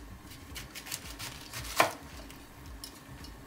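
A knife cutting around the core of a head of cabbage on a board, a few soft slicing strokes with one sharper cut near the middle, quiet and close, no talking.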